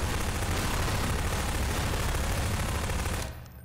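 Explosions set off in a Hello Neighbor mod played in Garry's Mod roar as one dense, continuous blast of loud broadband rumble and crackle, filling the clip before cutting off sharply near the end.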